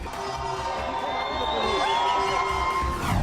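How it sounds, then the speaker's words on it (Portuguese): Noisy crowd of fans cheering and whooping for Iran's national team on arrival at Moscow airport, a dense continuous roar with shrill shouts and whistles rising throughout, steady and loud. "E olha que a torcida estava barulhenta."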